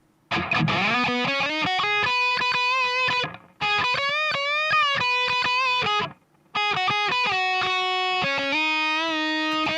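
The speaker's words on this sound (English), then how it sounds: "so now on to the distorted guitar, which sounds like this." A distorted electric guitar plays a sustained lead line with bends and held notes, in three phrases separated by short silences.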